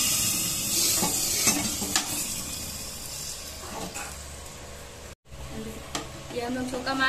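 A tempering (chhonk) sizzling in a pan for kadhi with pakoras: a steady hiss and crackle of hot oil with faint clinks of utensils, a brief cut near the end, and a person talking over it.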